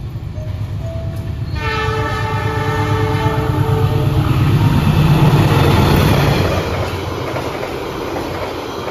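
The Malabar train passes a level crossing in Indonesia with a loud, steady rolling rumble and clickety-clack of wagons, alongside a sustained, strong horn tone.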